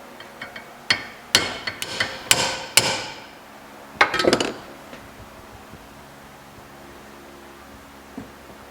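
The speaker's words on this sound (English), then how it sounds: "This is a small metalworking hammer. Not the best idea to hit a hammer with a hammer" A small metalworking hammer strikes another hammer in a workshop: a quick run of sharp, ringing metallic blows, then a couple more taps after a pause, with quiet between.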